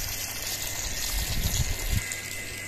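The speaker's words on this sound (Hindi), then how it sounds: "इस तरह करके अंदर पानी डाल देना है" Water is poured into a container of seeds in a village setting, a steady rushing gush with a low splashing swell toward the end, no talking.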